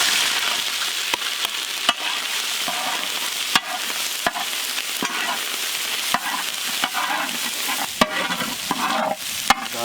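Mustard seeds with crushed ginger and garlic sizzle and crackle steadily in a hot pan, sharp pops and spatula stirs punctuating the frying close up, with no talk.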